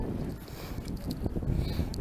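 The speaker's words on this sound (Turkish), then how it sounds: "bir yandan da rüzgar esiyor" Low, faint wind rumbles against the microphone in soft, uneven gusts on a street in Istanbul, with light background noise and no clear speech.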